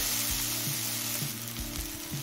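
Taro stolons stir-fried with spices in a pan over a medium flame give a steady, close sizzle, with scraping and stirring strokes repeating roughly every half second.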